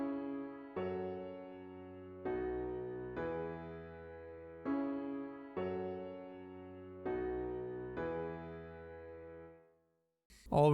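Pop chord progression from a song played on a sustained keyboard-like instrument, six evenly spaced chords each held and decaying before the next, alone with no voice, ending in a brief pause and a sharp new attack.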